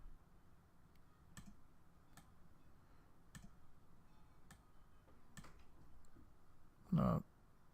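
Faint, sparse mouse clicks come at roughly one-second intervals over a quiet room hum, ending in a louder thump near the close.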